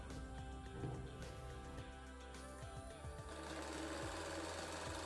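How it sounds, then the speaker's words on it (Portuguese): A sewing machine runs steadily while stitching a patchwork table runner, its rapid needle clatter continuous and fairly close, with a slight shift in pitch partway through and no talk. "agora que eu terminei de costurar, eu costurei até em cima aqui"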